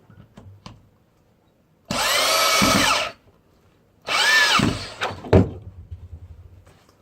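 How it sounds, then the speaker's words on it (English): A power drill drives a screw into a cat condo panel in two sustained bursts of about a second each, loud and close, with a few clicks and knocks of handling in between. "Drill it in."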